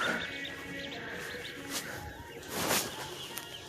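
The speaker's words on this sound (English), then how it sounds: "those are ducks." Faint ducks peep and call among themselves in a quiet indoor Tractor Supply store, with a soft background hum.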